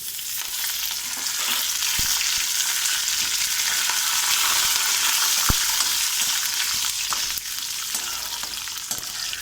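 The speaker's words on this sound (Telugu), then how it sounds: "ఇప్పుడు శనగపప్పు, కరివేపాకు వేసేసుకుందాము." Chana dal and curry leaves fry in hot oil for khichidi with sago, giving a loud, steady close sizzle with a few sharp clicks and spoon taps.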